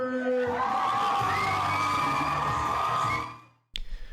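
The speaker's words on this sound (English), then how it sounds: "with an even bigger round of applause, welcome in the new Mr." Wedding guests cheer and whoop for the newlyweds being welcomed into the reception, a loud crowd roar with voices shouting over it that cuts off sharply before some brief closer noise.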